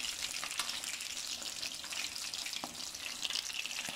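Rahu fish frying in hot oil in a home kitchen, with water still in the pan making a steady, close hiss and sizzle, broken by occasional sharper pops and crackles, with no talk over it.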